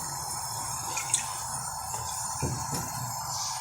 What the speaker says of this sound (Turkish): Altına şöyle güzelce sıvı yağım ekliyorum.